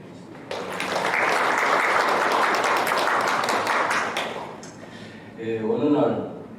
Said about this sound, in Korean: 앞으로 사회로 우리 법회를 잘 이끌어 주시라는 의미로 박수 한번 드리겠습니다.